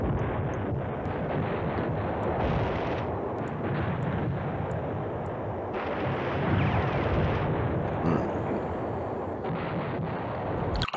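Bombing explosions in Command Ops 2, a continuous rumbling barrage of heavy blasts, loud and wind-like, steady for several seconds with no speech.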